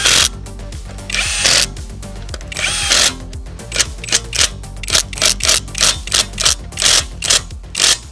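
A Greenworks cordless power tool tightens the wheel bolts during a car wheel change. Loud, close whirring bursts repeat in a quick stop-start rhythm, with no talking.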